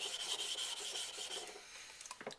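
A Nagura stone rubs back and forth on a waterstone to raise slurry. The gritty scraping is close and continuous and turns into lighter, uneven strokes near the end.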